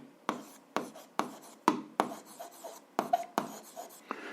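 A pen writes by hand on paper during a 7th-grade algebra lesson, with short scratchy strokes arriving in an uneven rhythm, close and fairly quiet, with no talking.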